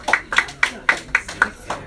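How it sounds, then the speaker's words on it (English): About eight sharp claps ring out in a steady, even rhythm, close to the microphone, like a single person clapping. "give the elder a round of applause before she leaves"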